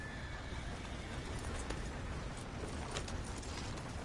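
A horse in the Red Dead Redemption 2 video game whinnies loudly while its hooves clop, all set against a dense, steady wash of background game sound.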